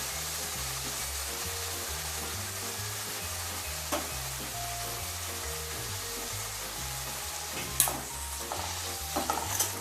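Washed drumstick leaves sauté over low heat in a pan, a steady close sizzle with soft stirring scrapes and a couple of sharp utensil knocks toward the end, no voices.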